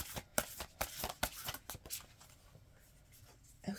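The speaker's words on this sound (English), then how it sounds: "I'm going to pull one of these oracle cards I'm being led to" A deck of oracle cards is shuffled by hand: quick, crisp riffling slaps in an irregular rhythm, then quieter sliding as a card is drawn, close and alone.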